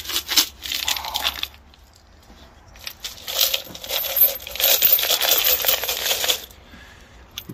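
Old pennies and silver coins clink and rattle out of a piggy bank in a storage locker, close bursts of metallic jingling spread across the clip with brief pauses between pours.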